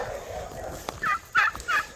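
Turkeys on a homestead gobble in three quick, loud bursts close by, after a brief stretch of muffled outdoor noise.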